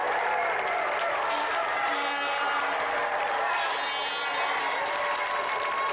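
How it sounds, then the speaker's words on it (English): A television studio audience claps steadily in sustained applause, a dense even patter of hands with a few voices mixed in. "that's another round of applause again for Auntie Marisha and Letty Edwards."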